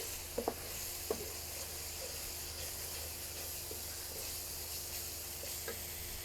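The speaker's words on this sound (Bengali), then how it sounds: "এখন আমি এই মশলাটাকে আরও 4-5 মিনিট ভালোভাবে কষিয়ে নিব" A steady, soft sizzle of a spice paste frying in a pan for a chicken dish, with a few faint clicks of stirring near the start.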